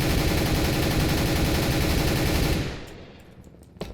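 Rapid automatic gunfire rattles in a dense, loud burst in Counter-Strike: Global Offensive on the Dust 2 map, then stops abruptly, leaving a faint tail and a final click.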